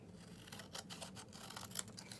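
Scissors snip through paper pieces cut in half for an orange craft design, giving a series of quiet, irregular close crisp cuts with no talking.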